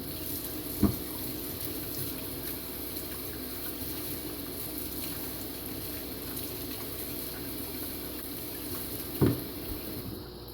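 Canister filter parts from an aquarium rinsed under steady running tap water, a continuous close hiss with two brief knocks, no speech.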